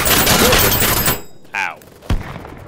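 Rapid gunfire from an automatic weapon in BattleBit Remastered, a loud dense burst that cuts off abruptly and is followed by a short spoken voice and a single heavy thud.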